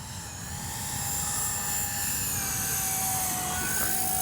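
A radio-controlled P-51D Mustang warbird model plane doing a touch and go, its engine a steady high-pitched whine and drone that holds level and loud throughout.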